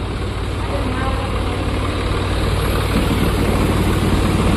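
A Honda Activa scooter engine idles nearby, a steady low rumbling hum that holds at a constant level from start to finish.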